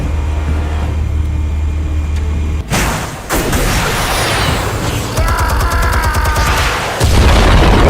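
Explosives detonating in the Batman Telltale video game: a sudden loud boom cuts in after a low hum, followed by rumbling debris, crackling, and a second heavy blast near the end.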